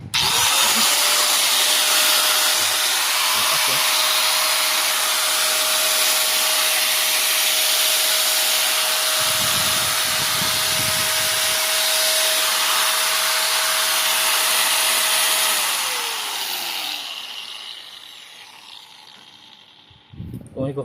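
An Ingco 750W corded angle grinder whirs steadily at high speed for about fifteen seconds, then winds down gradually toward silence, close and loud.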